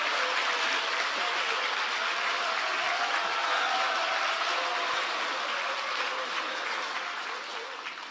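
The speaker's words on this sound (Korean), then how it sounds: "우리 오세훈 시장님 박수 한번 쳐주시죠" A crowd at a 2024 New Year reception at the Dongdaemun district office in Seoul gives sustained applause, a thick, even roar of clapping hands that tapers slightly near the end.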